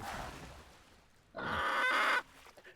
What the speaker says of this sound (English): Sounds like a chicken, though.